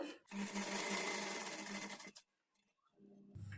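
A sewing machine stitches a blouse sleeve in a steady, fast whirring run of about two seconds, then stops, with a few faint handling sounds and a brief low hum near the end.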